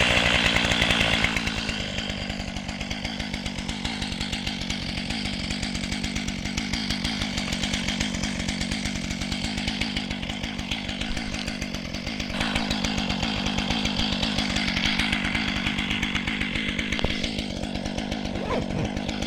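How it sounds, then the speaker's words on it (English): A chainsaw engine warms up steadily up close, a loud continuous buzzing drone that stays fairly even throughout with slight rises in revving. "Let me get the chainsaw. So here, let's fire this up real quick."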